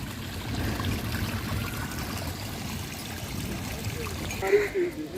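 A waterfall in Sharan forest gives a steady rushing wash of flowing water from a moderate distance. It runs the whole time at an even level, with a brief brighter splash near the end and no talk.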